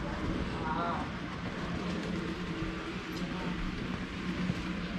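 A small model coal train rumbles along a layout steadily with a faint clickety rattle, continuous and moderately distant, amid background murmur.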